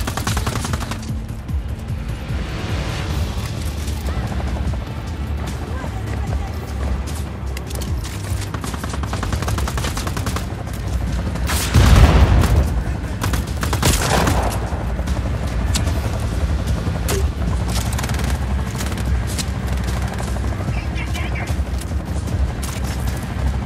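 A shotgun fires in the video game Just Cause 4 amid continuous loud game noise, with one prominent blast near the middle among other bursts, and a voice talking over parts of it.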